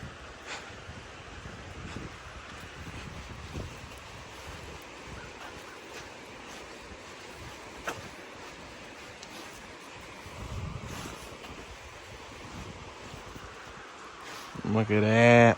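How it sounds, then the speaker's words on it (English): A creek flows in the rain outdoors, a steady broad rushing wash mixed with wind buffeting the microphone, with a voice briefly speaking near the end. "You can hear the crick."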